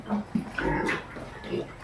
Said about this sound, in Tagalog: mga tira-tira na baboy dito. Ang laki-laki na.